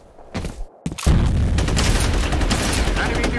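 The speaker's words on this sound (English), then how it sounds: "Grenade out!" A video game firefight: a few scattered close sounds, then a grenade blast followed by a sustained, loud barrage of rapid gunfire that fills the rest of the moment without pause.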